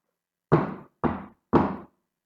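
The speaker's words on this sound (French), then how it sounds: "Les soldats s'excusent et vont frapper à la 2e porte." A door is knocked three times, firm and evenly spaced, each knock close and loud, with silence between and no voices.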